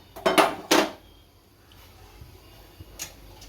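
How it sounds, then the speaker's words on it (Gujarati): A gas stove being switched on in a home kitchen, with a griddle on the burner, ready for frying bread pakoda: two sharp, close clicks in quick succession, then a faint, steady background. "ગેસ ચાલુ કરશું."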